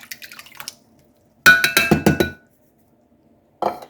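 A can of French onion soup is poured over beef: a quick run of metallic clinks and wet glugging splats, close and clear, between quiet pauses.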